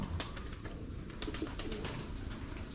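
Racing pigeons cooing, with soft, low, continuous murmuring calls close by over a steady outdoor background.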